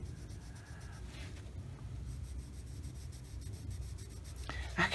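Steady scratchy rubbing of Derwent drawing pencils on paper, continuous and close, with faint background hiss and a brief clatter near the end.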